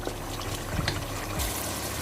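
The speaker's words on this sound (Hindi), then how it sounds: "तो अब मैं चावलों के अंदर से पानी निकाल कर तो चावलों को इसके अंदर ऐड कर दूंगी।" Water pours and trickles as it is drained from soaked rice while chana biryani is being cooked in a home kitchen, a steady close splashing flow with a heavier surge near the end.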